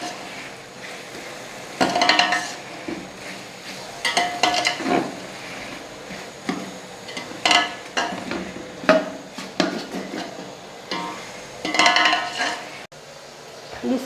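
Chicken, peas and potato palao is stirred and roasted in a pan, with repeated scraping strokes and clinks of a spoon against metal over a faint sizzle, close up and in irregular bursts.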